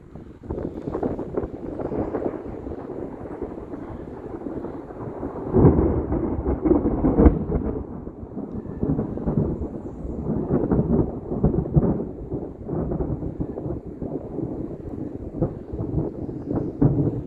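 Deep rolling thunder rumbles on and off amid steady rain and wind buffeting the microphone, loud and close throughout, heard from inside a hammock.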